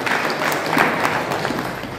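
An audience at a Marathi book launch applauds the author of a poetry collection and a biography, a steady wash of clapping that holds for about two seconds.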